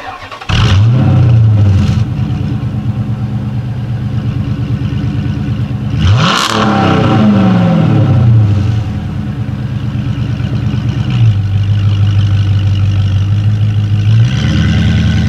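A 2009 Dodge Challenger SRT8 V8 engine starts with a loud bark, idles with a deep rumble and is revved several times while pulling into a shop, steady and close throughout.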